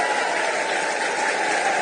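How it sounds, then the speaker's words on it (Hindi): Crowd at a Nitish Kumar political rally applauding, a dense steady burst of many hands clapping, loud and close, with no pause. "एक बार जोरदार ताली बजाकर नीतीश कुमार जी का स्वागत करने का काम"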